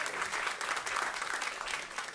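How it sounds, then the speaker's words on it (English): Audience applause for a panelist at an agriculture and climate resilience panel, a steady burst of clapping from a crowd lasting about two seconds with no talk over it. "Give him a round of applause."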